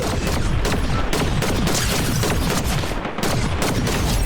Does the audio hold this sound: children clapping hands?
no